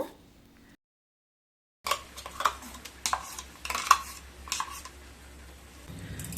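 Greens with spices, sesame and peanut paste being stirred in a pan for a dhaba-style garlic fenugreek dish, heard as a series of close, irregular scraping and clinking strokes of a utensil after a brief silence.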